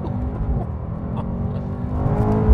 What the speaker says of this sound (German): hier hinten ist das Auspuffgeräusch nochmal viel präsenter